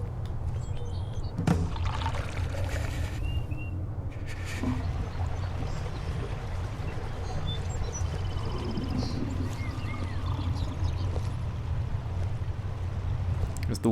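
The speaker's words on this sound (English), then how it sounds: "As the waters pour in, it will unlock the door" Water pours steadily in Skyrim to unlock a door, a continuous low rushing wash throughout with a few faint clinks and tones, while someone talks over it.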